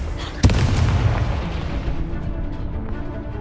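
A Confringo blasting spell from Hogwarts Legacy bursts in one sharp, loud explosion, followed by a long rumbling boom that slowly fades.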